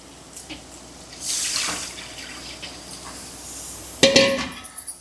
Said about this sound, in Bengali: মাছের ঝোলের মশলাটাকে খুব ভালো করে কষিয়ে নিয়েছি এবারে জল দিয়ে দিই